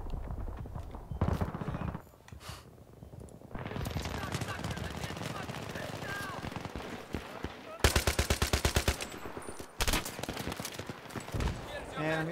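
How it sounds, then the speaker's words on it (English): Enemies on rooftops in Battlefield 3 fire on the player in rapid bursts of automatic gunfire, loud and close, mixed with scattered single shots, with a person talking now and then. "And I'm getting shot by a rooftopper again."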